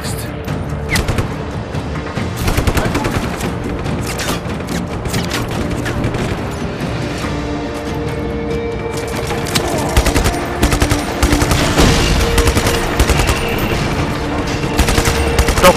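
Loud, dense automatic gunfire crackles almost without pause in Just Cause 3, rapid bursts overlapping with occasional heavier booms throughout a chaotic firefight, and no one talks.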